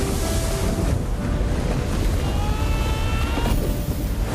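Loud, continuous surf as ocean waves crash and roar close by, with wind buffeting the microphone.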